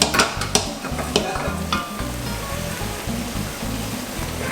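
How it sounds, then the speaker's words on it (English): Cooked linguine tipped back into a pan with crab and tomato sauce makes a loud wet, bubbling sizzle with stirring and sloshing, close up and steady after a few sharp clatters at the start. "Just tip that pasta back into the pan to keep warm."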